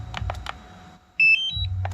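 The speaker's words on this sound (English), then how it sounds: "you'll hear that beeping" A short series of high electronic beeps from a DJI Mavic Air 2 drone controller powering on, a few bright tones in quick succession, between soft handling noises close by.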